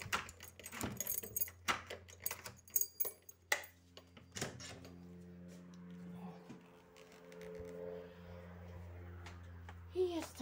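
House keys jangle in several quick, close bursts at the start, then fade into quieter background noise with faint voices.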